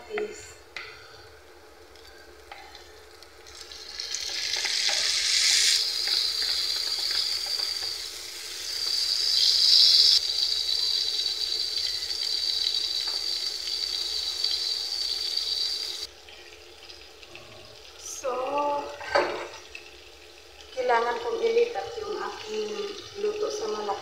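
Onions and tomatoes frying in a pan for a Moroccan tagine, a steady close sizzle that swells and fades over time, with clinks and stirring near the end.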